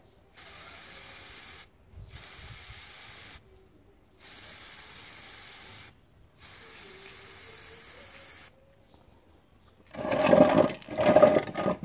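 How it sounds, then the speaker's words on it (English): Short bursts of aerosol spray paint hiss on and off in a steady rhythm along the edges of a side table, with quiet pauses between each pass, then some louder clattering at the end. "So I'm just spraying the edges now"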